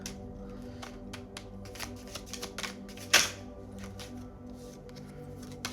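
Oracle cards being shuffled by hand, a run of quick papery riffles and slaps with one sharper, louder snap midway, close and alone without talk.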